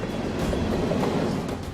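A freight train rolls steadily along the rails, a loud, continuous rumble with faint rhythmic clatter running through it, heard alone without voices.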